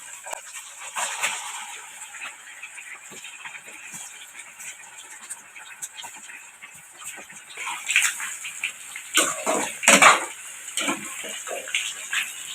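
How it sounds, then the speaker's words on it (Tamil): Chicken pieces frying in hot oil at home, a steady broadband sizzle and crackle running throughout, swelling louder and busier toward the end with sharp spitting bursts. "சிக்கன் ஃப்ரை பண்ணிக்கலாம்"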